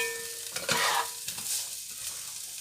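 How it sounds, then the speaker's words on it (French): Onions fry in a pan for chicken jambalaya, a soft steady sizzle broken by a few scraping stirs from a utensil, close by, with no talking. "Voilà, donc on a mis nos oignons."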